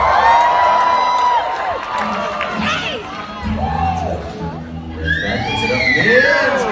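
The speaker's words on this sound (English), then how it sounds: "Cheer him on again, North." Audience at Dolly Parton's Stampede dinner show loudly cheering and shouting for a contestant, sustained crowd roar with whoops and children's shrieks, an announcer talking over it.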